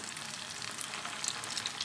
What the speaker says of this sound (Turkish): Şimdi diğer taraflarını da kızartıyoruz